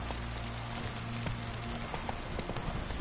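Horse hooves trotting in The Witcher 3 video game, a quick rhythmic clip-clop over a busy wash of ambient game noise, steady and fairly close throughout.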